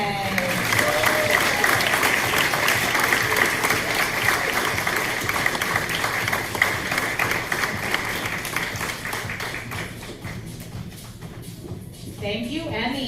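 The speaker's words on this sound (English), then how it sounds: "Let's give Emmy a big cheer as she emulates down the runway" A fashion show audience claps and cheers in a dense, lively roar for a child walking the runway, tapering off gradually toward the end as voices carry over it.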